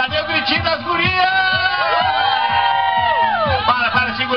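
Girls in an audience shrieking and cheering at a dance show, a dense crowd of high shouts and whoops mixed with voices and a low rhythmic beat.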